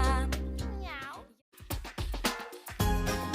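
A kitten meows with a rising, wavering cry, followed by more short vocal sounds, close and fairly clear.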